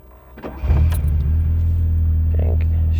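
A few key clicks and a quick crank, then a Fiat/Bertone X1/9 engine catches and settles into a steady low idle rumble, close up.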